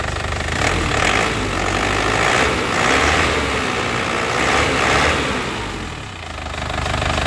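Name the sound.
Isuzu Panther diesel engine revving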